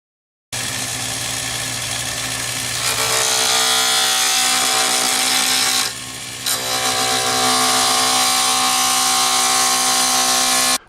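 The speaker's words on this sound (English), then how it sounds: "First, we're going to start off with several different tools, one of which is going to be the roughing gouge. That's the first tool you'll see." A roughing gouge cuts a faux stone pen blank spinning on a lathe, giving a loud, steady scraping whir with a short dip partway through before it resumes. No one speaks.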